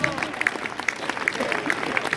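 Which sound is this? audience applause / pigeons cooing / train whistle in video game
audience applause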